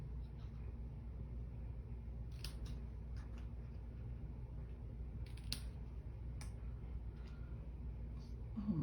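Scissors snipping through a paper tag, a few faint, crisp cuts in short bursts against a quiet indoor background, spaced a second or two apart.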